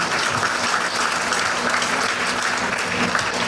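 Temple audience gives loud, continuous applause in an enthusiastic burst of dense clapping that fills the whole moment without letting up.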